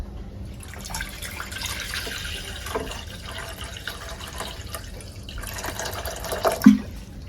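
Water runs and splashes steadily into a cooking pot, a continuous close-up liquid pour with a small clink near the end.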